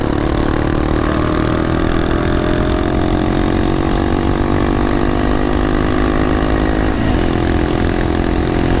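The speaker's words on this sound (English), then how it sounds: "at normal cruising, this Yoshimura pipe definitely is not loud" A Honda Grom motorcycle fitted with a Yoshimura RS9 exhaust cruises steadily, its engine note a continuous mid-pitched drone with a brief dip near the end.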